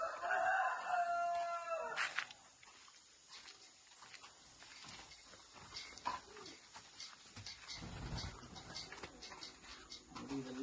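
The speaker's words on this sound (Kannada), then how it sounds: "ನೋಡಿ, ಇದೆಲ್ಲ ಕೋಳಿ." Free-range native country chickens in a home farmyard: a rooster crows loudly in the first two seconds, followed by scattered clucks and soft farmyard noises at a moderate distance, with no talking.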